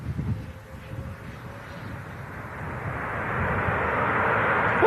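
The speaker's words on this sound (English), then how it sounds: "on short final. And that's a top-notch landing." An airplane on short final, its engine roar rising from a low rumble into a louder broad whoosh as it nears and lands, with wind buffeting the microphone outdoors.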